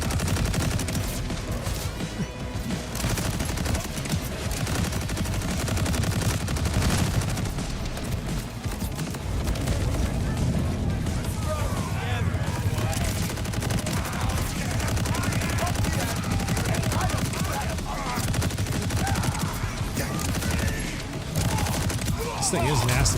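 Rapid gunfire from a high-damage weapon in the video game Borderlands 4, a dense, continuous fusillade of shots mixed with explosions and game effects, loud throughout with a voice speaking underneath.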